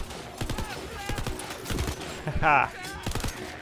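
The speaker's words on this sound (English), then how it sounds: "shoot that one in the head" Rapid gunfire in the video game Tiny Tina's Wonderlands, a string of sharp, close shots in quick succession mixed with game effects, while a player laughs and talks over it.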